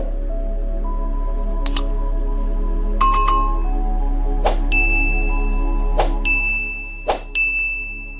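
A series of bright notification bell dings ring out one at a time, some struck singly and others in quick pairs, each tone lingering over a low steady hum.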